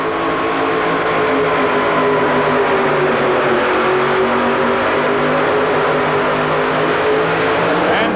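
A 1988 Thunderbird funny car roars at full throttle during an indoor 2WD truck pull in an arena, its loud, sustained engine blare echoing continuously with a slowly shifting pitch.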